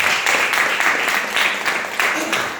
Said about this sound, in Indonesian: Tepuk tangan dong buat Anda semua.